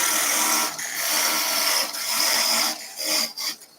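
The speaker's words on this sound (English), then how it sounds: "Now our parting tool. Going to do 2 cuts." Parting tool cutting into wood spinning on a lathe, a loud, close, steady grinding hiss that eases off briefly in the middle and breaks up in short bursts toward the end as the cut changes.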